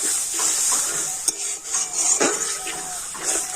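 Ginger-garlic paste and spices with a splash of water are stirred and fried in a pan for a pumpkin curry, with a soft sizzle under clinking metal spoon scrapes against the pan in uneven strokes.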